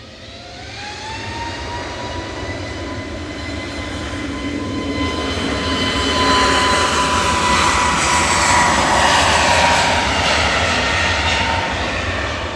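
An EasyJet Airbus A321 passing near Manchester Airport, its jet engines producing a loud steady roar that swells and builds over several seconds, with a thin high whine above the rumble and no voices.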